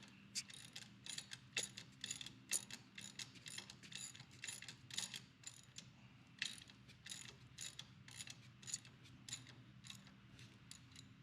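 Socket ratchet tightening the bottom engine guard bolts on a 2008 Harley-Davidson Sportster, a steady run of quick metallic clicks in short bursts, close and fairly faint, with no talking.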